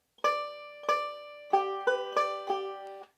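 Banjo picks out the opening measure of Lonesome Road Blues with a forward roll, six bright plucked notes ringing one after another in an even, unhurried rhythm, close and clear, alone with no talk.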